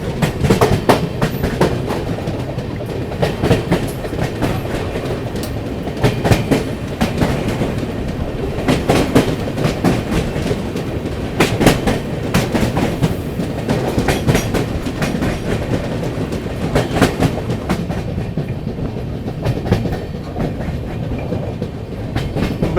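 A passenger express train rolls across a bridge, with a steady loud rumble and a continuous clickety-clack of wheels over rail joints heard from inside a carriage, with no talking.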